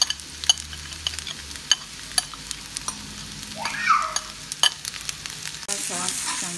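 Pasta sauce is stirred into chicken and vegetable pasta in a pan, with a soft, quiet sizzle beneath scattered utensil clicks and scrapes, ending in a slightly louder burst of frying.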